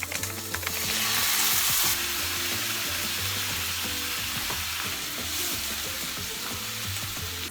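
Beef frying with browned onions and carrots in a pan, a continuous close sizzle with bursts of louder hissing and scraping stirring sounds, no talking.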